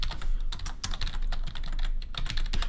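Fingers type rapidly on a computer keyboard nearby, a dense patter of crisp key clicks with brief irregular pauses.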